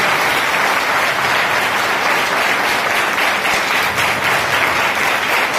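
A church congregation in Jodhpur claps loudly for Jesus Christ, a dense, steady roar of many hands sustained at high volume without a break.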